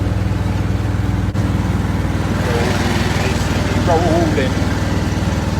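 A lawn mower runs steadily close by while mowing a backyard, its loud, even engine drone continuing throughout, with a brief word spoken over it.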